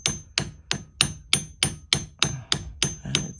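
Ten or so even, sharp metallic taps ring out as a small hammer strikes a punch to set a marquise gemstone, close and steady at roughly three per second with nothing else heard.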